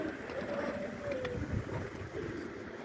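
Soft cooing of white birds, apparently pigeons or doves, in a newly built aviary, heard faintly against a steady low background hum.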